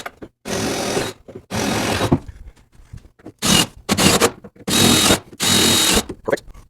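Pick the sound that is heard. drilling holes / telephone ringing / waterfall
drilling holes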